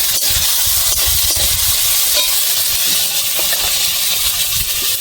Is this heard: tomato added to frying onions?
yes